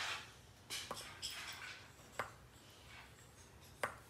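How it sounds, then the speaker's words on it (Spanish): Spoon stirring honey with garlic in a jar for a homemade garlic honey syrup, giving faint clinks and scrapes against the glass, with a few sharper taps spaced through a quiet background. "Lo vamos a revolver."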